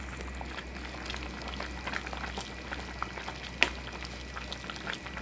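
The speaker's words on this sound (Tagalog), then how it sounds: "So hanggang sa kumukulo-kulo siya guys" Chicken tinola soup simmering in a pot, a soft steady bubbling with a few faint clinks and one sharp tap, no talking.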